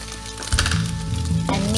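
Chopped onion hits hot oil in a pan with a sudden rush of loud sizzling that holds steady and close, with a clunk of stirring near the end.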